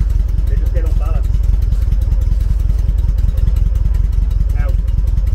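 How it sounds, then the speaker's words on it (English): A flat-4 engine fitted with Weber IDF carburettors idles unevenly, running on three cylinders and rocking, a loud steady low chugging pulse close by with a faint voice over it. "Flat 4 engines get very unhappy when they're not idling on 4 cylinders."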